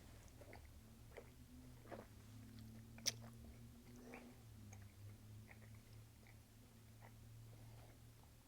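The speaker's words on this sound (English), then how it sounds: "The more you chew it, the better it gets." Quiet, close chewing of extreme hot Hot Tamales candy, a steady run of soft wet bites and crunches over several seconds with a low hum beneath and no talk.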